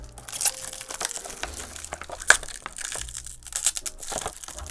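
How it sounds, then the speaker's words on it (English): Protective plastic film peeled and pulled off a Redmi Pad 2 Pro tablet case, giving close, irregular crinkling and crackling with a few sharp snaps, steady over several seconds with no talk. "So that should be all the protective film off the tablet case."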